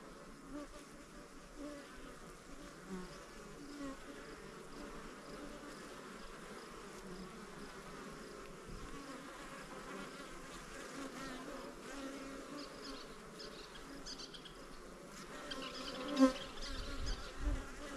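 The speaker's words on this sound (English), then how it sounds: "All that high frequency buzzing that you're hearing is drones." Honeybee drones buzz around a homestead beehive in early June, a dense, steady swarm hum that runs unbroken throughout and swells a little louder near the end.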